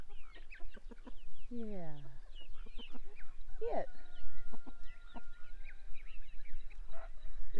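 Chickens and fowl cluck and squawk near a coop built from a converted bunk bed on an off-grid rural homestead in South Africa, with overlapping calls and turkey-like gobbles, close and lively, and a voice speaking briefly among them.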